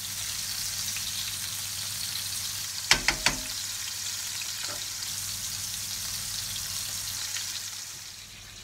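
Beef flank steak fries in a pan with garlic, giving a steady, even sizzle throughout. A few sharp clacks of the pan or utensil land near the middle, and no one speaks.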